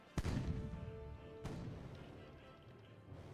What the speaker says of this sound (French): Et toi, je vais te couler avec mes petits canons avant.